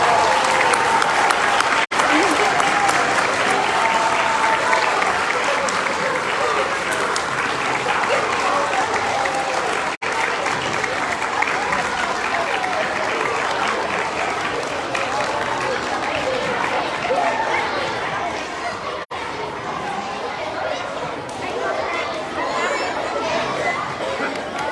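A crowd of people at a 2023 Iowa Teacher of the Year announcement applauds Governor Kim Reynolds, with sustained clapping at a steady high level for about twenty-five seconds and background chatter mixed in.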